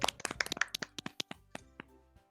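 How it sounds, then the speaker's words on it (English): Sparse, brief applause sound effect from the Doki Doki Literature Club video game: a short burst of dry, separate claps that thins out into a few scattered taps, fairly quiet, with no voices. "I receive applause anyway."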